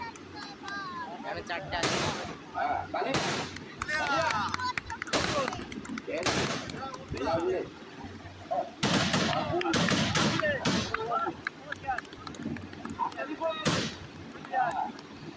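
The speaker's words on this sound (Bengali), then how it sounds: "ওটার পর আরো আতশবাজি শুরু হয়ে গেছে।" Fireworks burst repeatedly at a Gajan festival in Bengal: loud, sharp booms come every second or two over a noisy outdoor crowd, with voices audible between the blasts.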